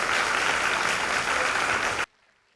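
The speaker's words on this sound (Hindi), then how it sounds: "जोरदार तालियां हो जाए।" Loud applause from the audience at an appreciation award ceremony, a dense steady wash of clapping hands that runs for about two seconds and then stops abruptly, leaving near silence.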